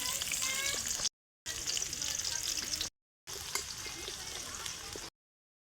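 Onions frying in a pan outdoors for a desi chicken curry at a picnic, a steady close sizzle with occasional stirring scrapes, broken by short silent gaps.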